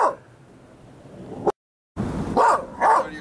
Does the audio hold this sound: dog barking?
yes